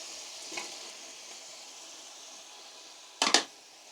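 Beef frying in a pan with onions and tomatoes makes a low, even sizzling hiss, broken by a faint scrape early on and one louder double scrape of stirring near the end.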